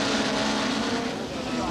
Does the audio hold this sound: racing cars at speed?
yes